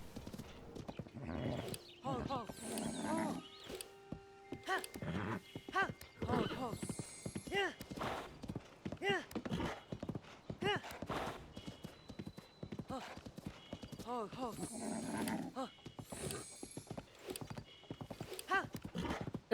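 Rapid hoofbeats of a horse galloping in the video game Tears of the Kingdom, a quick steady clip-clop rhythm with occasional neighs and snorts, close and prominent throughout.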